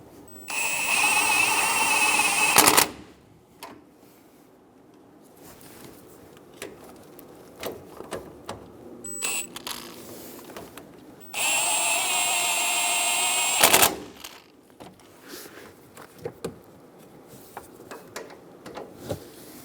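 Ratcheting wrench tightening the top nuts on a front shock and spring assembly of a 2014-2018 Chevrolet Silverado 1500, heard as two loud bursts of rapid clicking separated by quieter tool handling and metallic taps.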